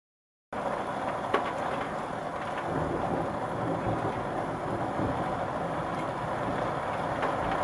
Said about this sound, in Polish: Już trzeci grzmot poleciał.